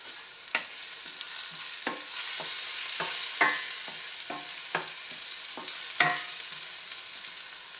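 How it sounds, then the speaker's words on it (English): Garlic sautés in hot oil in a pan, a loud steady sizzle broken by repeated sharp stirring clacks of a utensil against the pan. "Saute your garlic very well, you know, to almost where it's turning golden brown."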